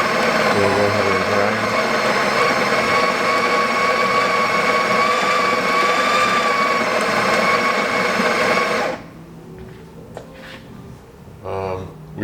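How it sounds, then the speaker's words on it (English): Built-in grinder of a Breville espresso machine grinding coffee beans, a loud steady whirring grind that stops abruptly near the end, followed by faint clicks and a voice. "I can hear the grinders working pretty hard"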